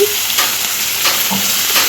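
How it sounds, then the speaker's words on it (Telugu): Hot oil sizzles and crackles steadily, with faint stirring scrapes against the pan. "ఇక్కడ తాలింపు అయితే వేసాను కూరకి"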